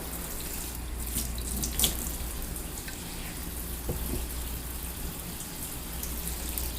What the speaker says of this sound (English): I'm gonna leave my tap running.